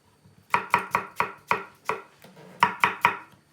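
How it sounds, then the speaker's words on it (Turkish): A knife chops pepper rhythmically on a cutting board, about a dozen crisp, close strikes in quick succession with a brief pause partway. "Elinizde hangi biber varsa onu doğrayın."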